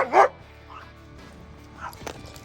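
A dog barks once sharply and loudly up close, followed by softer yips and whimpers over a quiet background.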